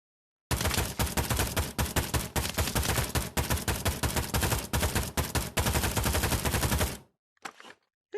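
Rapid automatic gunfire at a gun range in Pavlov VR, loud and close, in long dense bursts with short pauses between, ending with a brief final burst.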